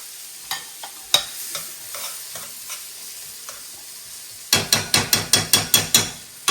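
Mushroom soup spread around a pan of sizzling pork chops with a utensil, a steady fry hiss under sparse scrapes, then a quick run of about nine sharp, evenly spaced taps against the pan.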